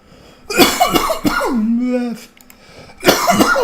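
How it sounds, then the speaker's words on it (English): A man coughs several times in sharp, harsh bursts, close to the microphone, with a throaty rasp and a brief strained vocal tail between fits, no talk around them. "Where have I got this cough from all of a sudden?"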